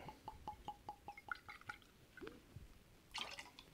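A quarter ounce of crème de violette liqueur goes into a cocktail tin: a quick run of small, evenly spaced drips, then a short splashy pour at the end, quiet and close, with no talking.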